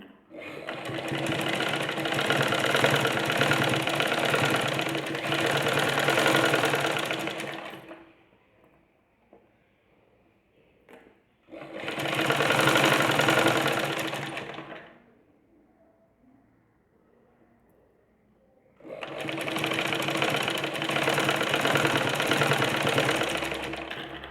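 A sewing machine stitches along the edge of a sleeveless armhole in three long, loud, steady whirring runs. Short quiet pauses with faint handling noises separate the runs.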